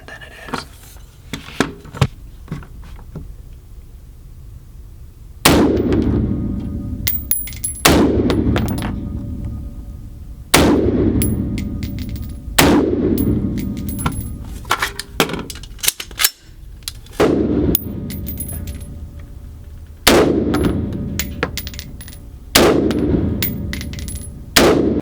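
An AR pistol fires while being sighted in at 15 yards, delivering eight sharp, loud shots spaced a few seconds apart, each trailing a booming decay, with faint handling clicks between.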